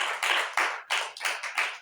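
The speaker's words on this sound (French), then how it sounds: "Applaudissez pour les gens comme ça." A church congregation claps in short uneven bursts, close and fairly loud, with no talk over the applause.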